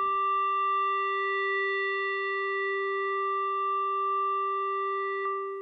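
Arturia MicroFreak synth with a negative modulation value holds one steady, pure, bright tone that sustains evenly for several seconds before cutting off.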